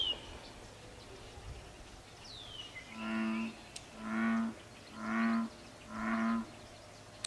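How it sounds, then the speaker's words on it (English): Bullfrog calling in the evening: four deep, resonant croaks in an even rhythm, fairly close, after a quiet stretch with a brief bird chirp. "If you listen this evening, you may be able to hear what I think is a bullfrog call."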